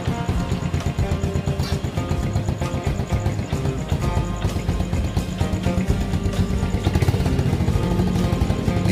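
A motorcycle engine runs on a lithium battery fitted in place of its usual lead-acid battery. It idles up close with a steady, dense, rattly chug that holds for the whole stretch, with no voices.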